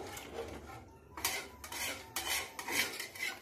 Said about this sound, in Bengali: এবার একটু নাড়াচাড়া করে দেব।